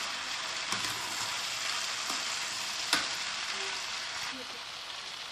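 Onion frying in a pan with red pepper, a steady broadband sizzle running throughout with occasional stirring clinks and scrapes, close and moderately loud, no talk.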